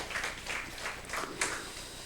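A church congregation applauds in blessing during a Sunday morning worship service, a soft, fairly distant wash of many hands clapping steadily and evenly throughout.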